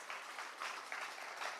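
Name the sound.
audience applause welcoming union workers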